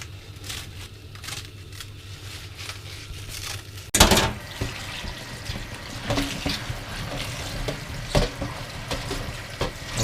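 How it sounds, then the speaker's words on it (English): Spinach is rinsed under a kitchen tap, with water splashing and trickling close by after an abrupt start, uneven bursts and drips, and no one talking. "wash the spinach"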